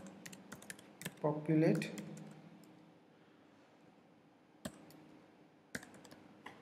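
Code is typed on a computer keyboard in quick bursts of light clicking. Someone says a word partway through, then scattered single key taps follow at low volume.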